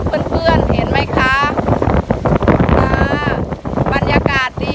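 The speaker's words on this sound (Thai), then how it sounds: "ลมแรงมากเลยค่ะเพื่อนๆเห็นไหมคะ" Very strong wind at Laem Promthep cape by the sea roars and buffets the microphone in loud gusts, with a voice talking throughout.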